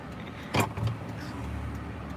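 A car creeps along slowly in second gear during a driving lesson, giving a steady low engine rumble with a brief knock near the start and no talk over it.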